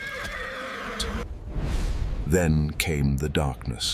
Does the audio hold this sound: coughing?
no